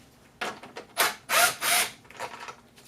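A ratchet works 10 mm bolts loose on the throttle body of a 1992 Acura Legend, giving several short close clicking bursts in quick succession.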